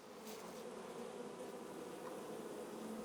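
Honey bees taking sugar syrup from feeder trays at an apiary: a faint, continuous buzzing drone of many insects at once, steady throughout with no voices.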